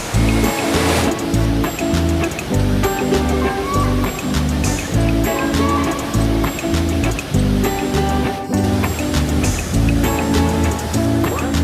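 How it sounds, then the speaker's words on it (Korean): Indoor waterfall in a jungle dome botanical garden, a steady rushing stream of falling water under background music and faint voices. "저쪽에 폭포도 보이고요"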